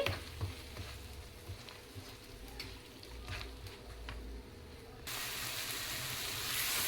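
Kadai chicken masala fries in oil in a pan, a steady soft sizzle with faint stirring that grows louder and brighter toward the end.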